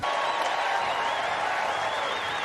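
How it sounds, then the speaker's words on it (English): Crowd at the U.S. Olympic track and field trials gives a runner a steady, sustained roar of applause and cheering, dense and continuous throughout with no gaps. "A great reception from the crowd here."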